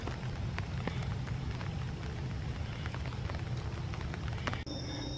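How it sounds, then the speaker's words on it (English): Light rain falls in a park beside a large pond, a soft continuous patter of drops over low rumbling ambience, with faint scattered taps and no talking. "Starting to rain a little harder."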